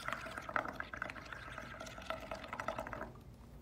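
Air blown through a straw into a cup of watery paint, giving a steady bubbling, gurgling burble that runs nearly continuously at close range and fades near the end.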